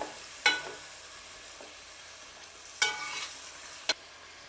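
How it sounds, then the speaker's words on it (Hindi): Ginger-garlic paste fries on a lowered flame for a mutton handi, giving a faint, steady sizzle broken by three sharp stirring scrapes against the pan. "और अब इसको हम फ्राई करेंगे 2 से 3 मिनट लहसुन के अंदर।"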